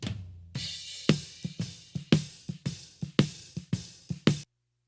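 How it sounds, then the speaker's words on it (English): A reverb-layered snare drum, heard through the top mic without slapback delay, plays about a dozen sharp, close hits in an uneven groove. A reverb tail rings after each hit, and the sound stops abruptly. "just the snare top mic sounds like this"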